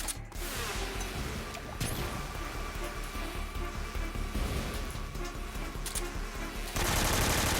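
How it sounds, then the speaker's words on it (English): Grenades and gunfire in the stealth game Metal Gear Solid 3, a continuous rattle of rapid shots with sharp blasts near the start and end, loud and busy without speech. "I'm chucking grenades and it's not working."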